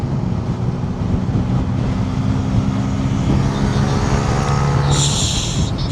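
A camera vehicle, likely a car, drives off during a vehicle demonstration, its steady engine and road rumble loud and continuous, with a brief higher whine near the end.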